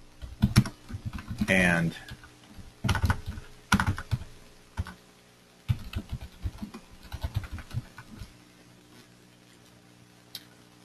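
Computer keyboard typing a search query, clusters of sharp clicking keystrokes in irregular bursts, with someone speaking briefly between them and a quiet pause at the end.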